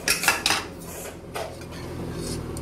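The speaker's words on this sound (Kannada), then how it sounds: "ಈಗ ನಾನು ಲಿಡ್ ನ ಓಪನ್ ಮಾಡ್ಕೊಳ್ತಾ ಇದೀನಿ" A pressure cooker lid being opened after cooking lentils for bele saaru, with several sharp metallic clanks and scrapes of the pot and lid up close, followed by quieter handling and a low steady room hum.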